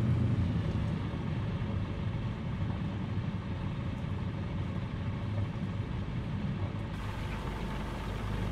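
Aircraft engine in Microsoft Flight Simulator 2020 throttling down, a steady low broadband drone that holds throughout with only a slight shift in tone near the end.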